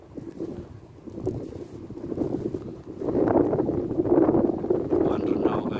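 Strong wind buffets the microphone high up on a tall electric transmission pylon above the sea, a continuous rumbling roar that swells louder in the second half, with a voice speaking faintly beneath it.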